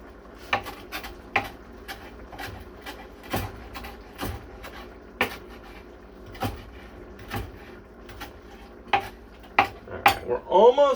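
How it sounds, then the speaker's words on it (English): Beans being chopped in a pan for homemade refried beans, a series of sharp metallic taps and scrapes against the cookware, irregular and close, with a short voice at the end. "I'm going to give these a nice chop."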